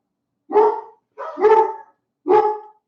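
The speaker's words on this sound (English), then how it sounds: "my dogs barked" Three separate, loud barks from nearby dogs in quick succession, each a sharp woofing burst with short gaps between them, with no voices.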